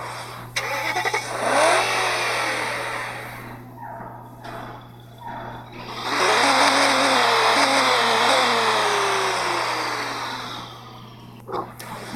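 A BMW M3 engine in the Nitro Nation racing game revs hard, rising and falling in a few loud bursts with short pauses between, heard alone over a steady electronic hum.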